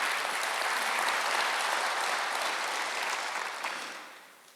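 A church congregation applauds together during a Sunday worship service, a steady, dense wash of clapping that holds evenly before tapering off toward the end.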